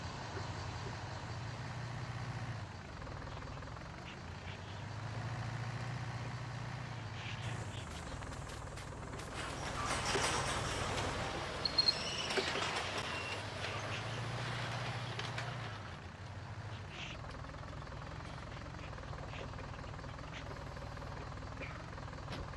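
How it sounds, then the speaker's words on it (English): A skid steer engine in Farming Simulator 19 drones steadily and fairly quietly, rising and falling in low rumbling swells, with a louder stretch of hiss and clatter in the middle before it settles back to the hum. "hop in the skid steer here"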